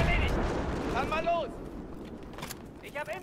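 Gunfire from the video game Battlefield 3: a few sharp, loud shots early in the clip, then faint later bursts, with a voice talking over the game sound.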